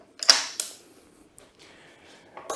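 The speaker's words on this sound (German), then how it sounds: "Jetzt muss man einfach hier den Hebel lösen" The folding lever on an Odys Neo E100 e-scooter is released with a couple of sharp close mechanical clicks and a faint creak, then a short rattle.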